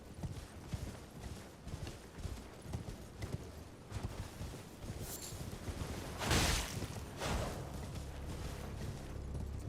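Horse hooves clatter in a steady clip-clop as a steed gallops in the video game Elden Ring, with a loud burst partway through and continuous game sound underneath.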